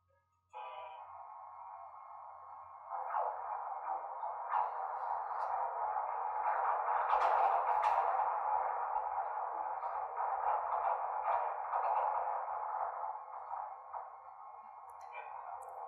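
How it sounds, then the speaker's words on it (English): An iceberg captured underwater by hydrophone makes a steady, faint, tonal hum with crackling and fizzing textures that swells gradually and holds for about fifteen seconds, with no voices. "That's the sound icebergs make."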